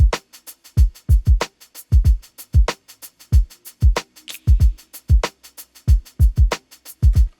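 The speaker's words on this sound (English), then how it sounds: "all these red tracks are sort of the kick, hat, snare, the core drum parts." Core drum kit groove of kick, hi-hat and snare in a produced beat, punchy low kicks and crisp hits repeating in a steady loud pattern with no voices.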